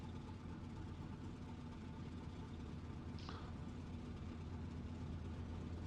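The engine of an F4U-1D Corsair idles while warming up in the DCS flight simulator. It gives a steady, low rumbling drone, faint and unbroken throughout, with a brief small click partway through.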